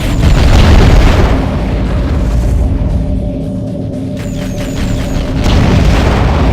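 An underwater target explodes in the video game Aquanox, a loud deep boom that swells into a sustained rumbling roar lasting several seconds.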